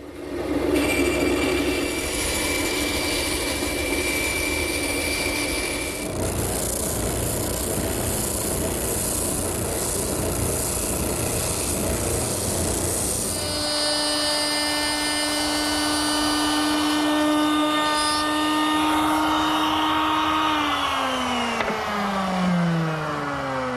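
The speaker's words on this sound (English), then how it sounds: "Using my bandsaw, I can make the decorative cut that runs along the bottom of the short rails and the front rail." A bandsaw cutting a decorative profile into mesquite wood rails, a steady loud rasping drone with a whining tone that shifts and drops as the cut ends.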